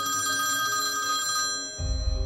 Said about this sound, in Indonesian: Nyaris tengah malam, teleponku berdering mengagetkanku.